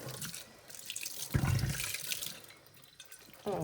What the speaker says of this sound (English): Oh, come on, Kate, rinse that one out.